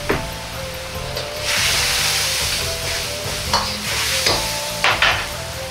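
A stir-fry with a spoonful of curry powder just added sizzles loudly in the pan, with spatula scrapes and knocks in an uneven rhythm.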